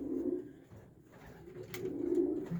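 Low, throaty coos from breeding pigeons in a loft swell and fade in a soft rolling rhythm, nearby and fairly quiet, with a brief click partway through.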